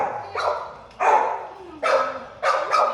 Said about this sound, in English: I can't believe you're barking.